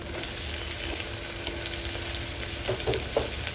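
Green chillies and tomatoes frying in a pan for chicken pulao give a steady, moderate sizzle with a few brief stirring clatters near the end.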